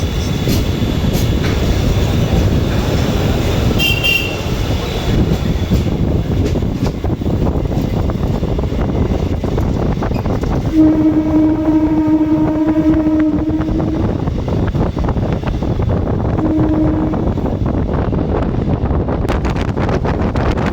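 Krishak Special local train pulling out of platform 2 at Dum Dum Junction, a steady loud rumble of wheels and carriage noise with wind buffeting throughout, and a brief two-tone horn sounding midway.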